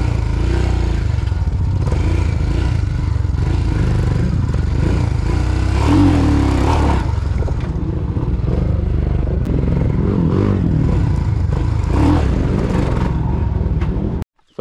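A Hero Xpulse motorcycle revs hard during a wheelie at an off-road hill site, its engine roaring loud and close for over fourteen seconds with rattling clatter and surges of throttle before cutting off suddenly.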